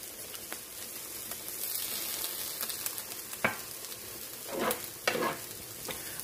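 Grilled peppers and other vegetables sizzling in a pan for ratatouille, a soft steady hiss with occasional brief crackles and stirring scrapes, close and faint, with no talk.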